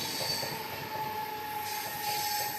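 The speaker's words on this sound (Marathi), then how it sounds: "इथे धावत आहे मस्तपैकी आपले लांबलचक झुकझुक गाडी" A train rolls past steadily, its wheels squealing in a high, continuous tone over a low rumbling roar.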